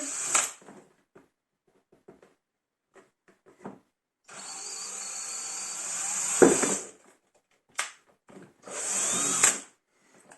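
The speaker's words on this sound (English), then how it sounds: "So you can use a drill, it will be much faster." A power drill whirs in several bursts making a hole in a worm bin, a long steady run and a shorter one, separated by clicks and handling noises.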